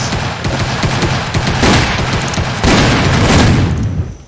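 Sustained volley of gunfire in a Roblox Wild West roleplay game as a sheriff shoots, dense crackling shots and booms packed closely together, loud and continuous with a heavier surge near the end.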